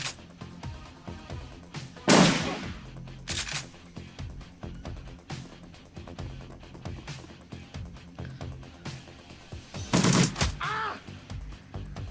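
Scattered gunshots in the video game Shadowrun Returns, two louder bursts standing out among quieter clicks and game sounds, with no talk.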